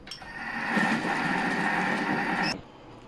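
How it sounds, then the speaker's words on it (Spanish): A Thermomix blender runs steadily at speed 3 for about two and a half seconds while blending a fake banana and mango smoothie, a loud even whirring drone that stops abruptly near the end. "Nuestra batidora durante 3 minutos al 3 de potencia."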